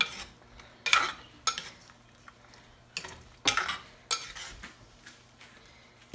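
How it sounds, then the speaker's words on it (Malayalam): Cooked taro root tipped into a pot of taro and green mango curry, giving several clattering scrapes and clinks of a utensil against the pot in uneven bursts, close and moderately loud, with no talking. "ഞാൻ വേവിച്ച് വെച്ചിരുന്ന ചേമ്പ് അതിനകത്തേക്ക് ഇട്ട് കൊടുക്കുവാണ്"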